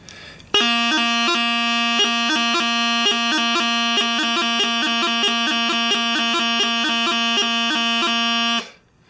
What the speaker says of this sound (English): if I were to do a G grace note and then a D grace note and then an E grace note